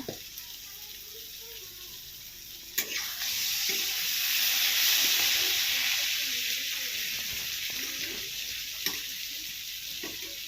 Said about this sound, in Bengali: আলুগুলোকে লাল করে ভেজে নিই